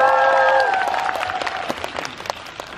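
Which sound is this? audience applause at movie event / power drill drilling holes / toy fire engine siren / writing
audience applause at movie event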